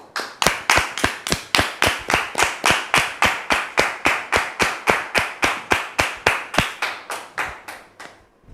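A studio audience on a French-language talk show claps in unison, making a long run of crisp, evenly timed claps that stays strong and steady for about eight seconds before tapering off, with no talking over it.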